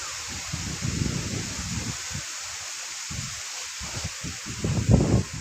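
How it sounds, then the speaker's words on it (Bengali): Strong wind gusts through trees and plants behind a house, a steady broadband roar with rustling surges that swell loudest near the end, no voices. "তোমরা হাওয়ার অবস্থা মানে আওয়াজ শুনে দেখছেন"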